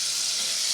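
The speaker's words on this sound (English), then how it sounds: "we are deep frying them" Homemade fries made from regular potatoes crackle and sizzle in the hot oil of a Presto GranPappy electric deep fryer, a brief, steady bubbling hiss heard up close.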